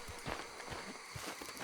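Horse hooves clip-clopping in Red Dead Redemption 2, a steady rhythmic trot of close thuds running through the whole stretch at moderate level with no talk.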